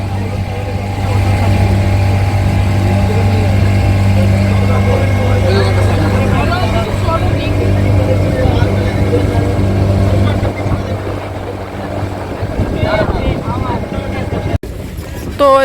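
A motorboat engine drones steadily and loudly on a ride to North Bay Island in the Andaman sea. The hum fades toward the end, and voices talk over it throughout.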